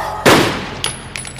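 A single loud gunshot from a Death Note film scene in which a panicking woman shoots herself, a sharp close blast decaying quickly, followed by a couple of faint metallic clicks.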